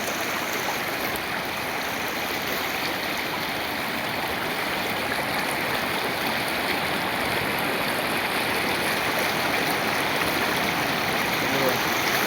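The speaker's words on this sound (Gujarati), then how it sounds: "થોડોક પગ ખબરે ને તો પડી જાય એટલું પાણી છે।" A flooded river rushes past in a steady, loud roar of flowing water that fills the whole stretch without a break.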